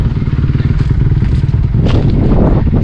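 A KTM 520 enduro motorcycle engine on a muddy, sandy trail, a loud, close, continuous rumbling four-stroke drone with clattering and thumps over it.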